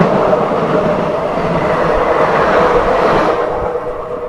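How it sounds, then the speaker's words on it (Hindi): Jharkhand Sampark Kranti Express, a blue ICF-coach passenger train, rumbling along at slow speed with a steady loud roar and faint clickety-clack of wheels, heard close from on board without speech. "ICF, प्योर ब्लू ICF वाली ट्रेन भाई।"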